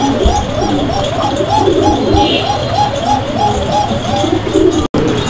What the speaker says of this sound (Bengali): দর্শক বন্ধুরা আমরা এই মুহূর্তে দেখতে পাচ্ছি এখানে আরও এক জোড়া কবুতরের কালেকশন রয়েছে